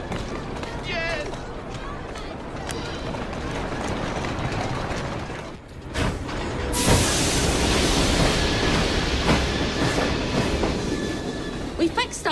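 A train runs in Assassin's Creed Syndicate, its rolling rumble and rhythmic clatter swelling louder in the second half, mixed with game voices and other effects.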